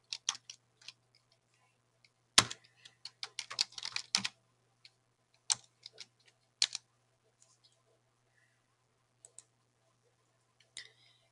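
Sparse bursts of computer keyboard typing while entering text into a Publisher brochure, with quick clustered keystrokes and a few isolated clicks between pauses, close and fairly faint over a low steady hum.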